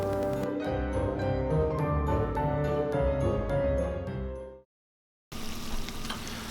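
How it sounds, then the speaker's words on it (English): A thick candy cane mixture bubbles and hisses steadily in a pot, then cuts out for a moment before the boiling sound resumes. "Okay, so this mixture is now boiling"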